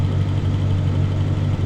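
Car engine idling with a vacuum leak opened under the hood, a loud, close, steady low hum and rumble whose idle speed shifts slightly, with no talk.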